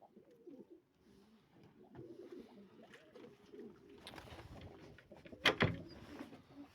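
Soft, low cooing of racing pigeons close by in a loft, with rustling and scuffling in the background and a brief louder clatter near the end.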